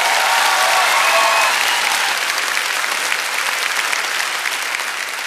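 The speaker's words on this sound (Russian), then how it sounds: "Аплодисменты зрителей" An audience at a humour concert in Izmailovsky Park applauds continuously, a dense, steady wash of many hands clapping that holds throughout and tapers slightly at the end.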